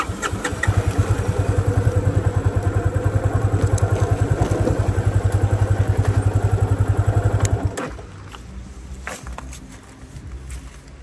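A motorcycle engine thumps in a fast, steady rhythm close up for several seconds as the bike rides toward a river crossing near a hill fair, then the note drops away to a quieter idle.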